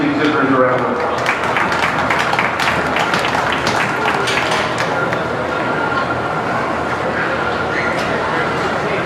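An audience at the 2023 Belmont County Fair beef show applauds the exhibitors, a loud, dense, sustained crowd clapping across the whole stretch with voices mixed in.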